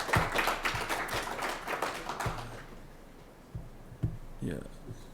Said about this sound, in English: So let's give loud applause for Amara Grabs